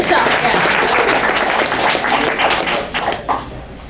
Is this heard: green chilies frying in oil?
no